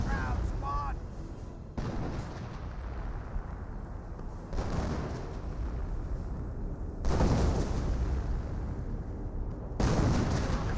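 Artillery fire and explosions rumble through a Company of Heroes 1 battle between US and Wehrmacht forces, with heavy booming blasts landing every few seconds amid continuous gunfire and battlefield noise, under a commentator's voice.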